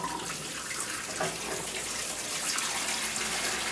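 Water runs steadily from a valve into a brewing kettle, a continuous broadband rush close by with a faint shift in tone as the vessel fills, no voices over it.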